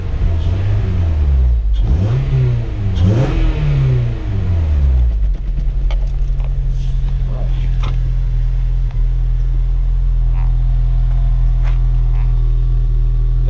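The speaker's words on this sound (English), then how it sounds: "Give a couple little revs." Honda Civic Si FA5 fitted with a new Invidia Q300 exhaust, warm engine blipped in a few quick revs that rise and fall over the first five seconds, then settling into a steady low idle drone.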